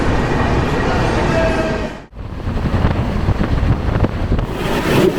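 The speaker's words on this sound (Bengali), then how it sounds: "গতি তুলে নিয়েছে ট্রেন মোটামুটি বর্ধমান ছাড়তে ছাড়তে" Netaji Express (Kalka Mail) running at speed after leaving Bardhaman, a loud, steady rush of wheel and wind noise that dips briefly midway, with no talk.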